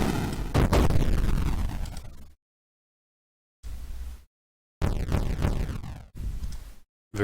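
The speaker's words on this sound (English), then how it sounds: "Artillery fire." Artillery fire in the tank video game Armoured Commander: several sharp synthetic explosion bursts separated by silent gaps, each a loud booming hit that decays quickly, with no talk.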